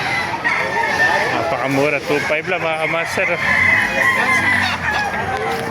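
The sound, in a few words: roosters crowing at a chicken market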